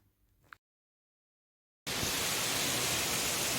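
After a brief quiet gap, a loud, dense roar of rushing, crashing water from a waterfall cuts in abruptly and continues steadily, close by.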